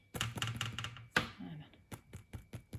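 Several hollow knocks in quick succession, fingers tapping the firm undersides of baked gluten-free burger buns, close by and fairly quiet.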